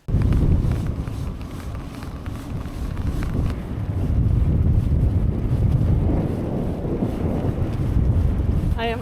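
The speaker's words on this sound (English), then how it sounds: "I am into a bit of a serious headwind here." Strong headwind roaring across the microphone while bikepacking the John Muir Way in Scotland near Strathblane, with a loud, continuous gusting rumble that swells and eases and buries the surroundings.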